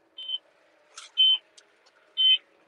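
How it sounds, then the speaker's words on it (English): Repeated electronic beeping inside a crop sprayer cab while spraying barley in Suffolk: three short, clear tones at a steady interval over a low engine hum. "I think it's just beeping because I've not got the bearing on the roof"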